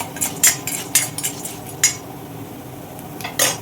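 A spoon stirring urad dal as it fries in a pan, several sharp metallic scrapes and clinks against the pan at close range, irregular strokes over a faint background sizzle, no talk.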